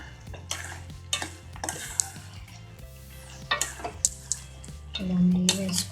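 Ghee being stirred into moong dal prasadam in a pan: close, irregular scraping and clinking of a spoon against metal in short bursts, with a soft underlying hum.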